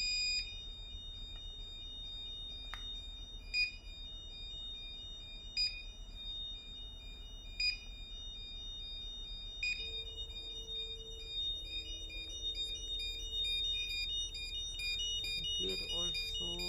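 A gyro panel alarm signalling a GPS communication error aboard a ship, sounding as a regular series of high electronic beeps roughly every two seconds, steady and fairly close, with a person talking briefly and a tone shift near the end.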